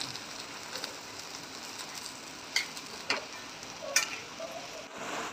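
Fried potato pieces with crushed peanuts are stirred in a pan over a faint continuous sizzle, with a few soft scraping and clinking strokes of the spoon at intervals.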